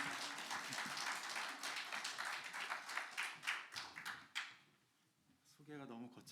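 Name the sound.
audience applause welcoming the speaker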